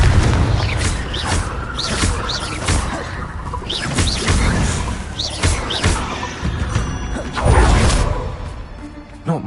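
Confringo spell blasts in a Harry Potter video game, a string of loud booming explosions and crashing hits layered over busy game effects and whooshes, bursting repeatedly across the scene.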